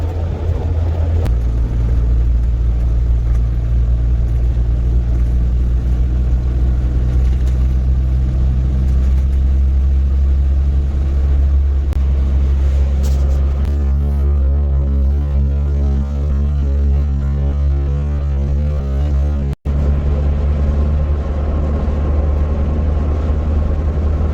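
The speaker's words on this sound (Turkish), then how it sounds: "Dediğim gibi araba gayet e, güzel gidiyor." A Suzuki Carry micro campervan cruising along the road, with a steady loud low engine rumble and road noise throughout and a brief dropout near the end.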